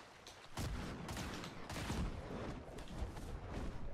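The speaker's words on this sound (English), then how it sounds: "someone else is shooting at me" Video game gunfire from another player shooting, a dense stream of shots and bursts lasting throughout, fairly close and loud with no voices over it.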